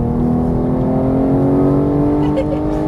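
Porsche GT3 race car accelerating out of a corner, a loud steady engine note with rising harmonics, close and continuous, with a voice talking over it.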